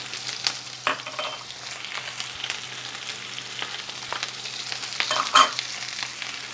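Onions and spices sizzling in a pan with potatoes already fried, a steady bright crackle with occasional stirring clatters and scrapes, close and continuous without any talking.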